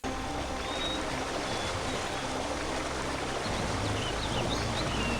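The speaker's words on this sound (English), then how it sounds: "but that waterfall is loud as fuck in my left ear." Steady roaring rush of a waterfall in the Man Vs Wild Wii video game, loud and continuous throughout with no talk, its low rumble thinning briefly partway through.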